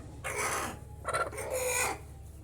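An Aseel rooster crows nearby, a drawn-out, strained cock-a-doodle-doo in several rising and falling bursts, with no voices.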